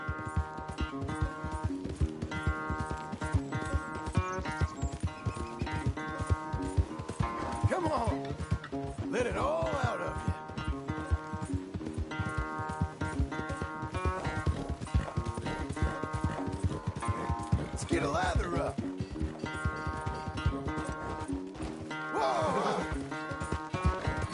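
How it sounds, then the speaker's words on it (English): Hooves pound in a steady galloping rhythm under music in Red Dead 2, with the horse's footfalls continuous and fairly close throughout. "big mean horse."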